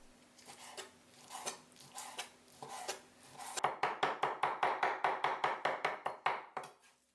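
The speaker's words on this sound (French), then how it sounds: "Je hache un blanc de poulet au couteau ou au mixeur." A knife chops chicken breast on a board, at first with scattered strokes, then a fast, steady run of sharp, even chops close up.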